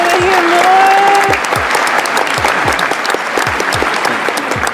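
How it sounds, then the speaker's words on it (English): Loud, steady applause from a crowd fills the whole stretch, dense clapping with a brief tonal sound early on. "let's give Sergey a round of applause, man."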